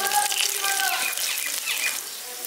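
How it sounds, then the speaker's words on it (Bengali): Chopped garlic goes into hot oil in a wok in a village-style kitchen, giving a bright, continuous hiss and sizzle up close. A voice is heard faintly under the frying. "রসুন কুচোটা দিয়ে দিচ্ছি"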